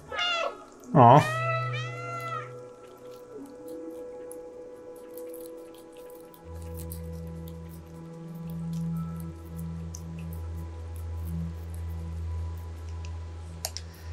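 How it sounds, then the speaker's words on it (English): Cat meows in the video game Stray, a couple of quick close meows near the start over soft game ambience with drips and a low hum, then a faint brief exclamation and a lingering quiet background. "Press circle to meow."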